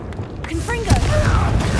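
A Confringo blasting spell explosion in Hogwarts Legacy, a deep booming thud with a short magical whistling sweep, mixed with voices and game chatter.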